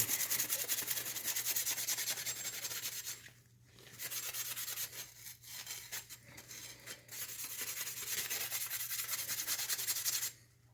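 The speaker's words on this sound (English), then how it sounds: "this is also going to act like a very mild sanding as well" Steady, raspy rubbing of sandpaper against the wood of an axe goes on for several seconds, pausing briefly a few times before resuming at an even pace.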